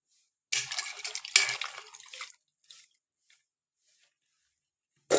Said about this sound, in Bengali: এগুলোকে কড়াইতে দিয়ে জল দিয়ে ভাপিয়ে নেব।